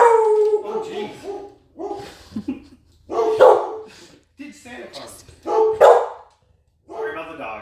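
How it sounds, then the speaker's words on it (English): Several dogs bark and howl in bursts close by, mixed with someone talking over them. "Sorry about the dogs."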